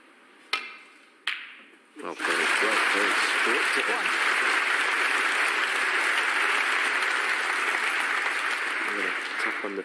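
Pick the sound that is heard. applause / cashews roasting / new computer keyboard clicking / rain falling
applause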